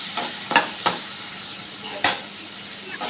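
Curry leaves, chopped tomato and green chili fry in a pan with a steady sizzle, broken by a few sharp stirring scrapes near the start and one louder scrape midway.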